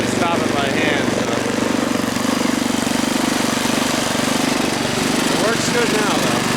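A 1978 Craftsman 7hp, 24-inch dual-stage snowblower runs steadily up close, its loud, rough engine chugging without pause through the whole stretch as it clears the first snow.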